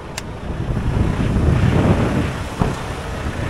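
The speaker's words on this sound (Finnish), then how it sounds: "Kyllä pystyy tuo tuulen kohina vissiin hävittämään" Strong wind buffeting a microphone outdoors on a wet day, a steady loud rumbling roar lasting throughout with no voices.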